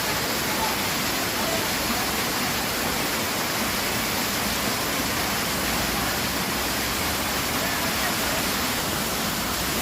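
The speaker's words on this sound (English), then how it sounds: "MurgaMahadev waterfall in Odisha." The MurgaMahadev waterfall in an Odisha forest gives off a steady, close, unbroken rush of falling water that holds the same level throughout.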